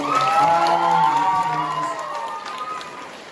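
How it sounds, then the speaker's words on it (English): Audience at a youth talent show cheers and whoops with shouting voices and some clapping, a loud, sustained crowd roar that slowly tapers off. "One more round of applause for"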